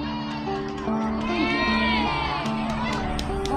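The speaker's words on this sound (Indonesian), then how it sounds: "Tepuk tangan untuk Pak Aziz ya." Cheering and shouting from a crowd at a literary gathering in Indonesia, full and steady throughout, with children's voices and whoops rising above the din and a faint trace of clapping underneath.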